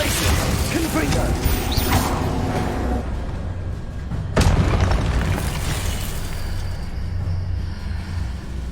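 Confringo fire-blast spells cast in combat in Hogwarts Legacy, a dense run of booming magical bursts and crashes over game music and battle noise, with one sharp loud impact midway.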